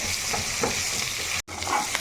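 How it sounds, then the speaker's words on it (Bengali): Potatoes fry with salt and turmeric in hot oil in a wok, making a dense, continuous loud sizzle with faint stirring, cut off briefly by a short gap midway. "তো এখানে লাল লাল করে আলুটা ভেজে নিতে হবে।"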